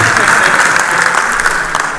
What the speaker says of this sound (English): So please go and clap for me.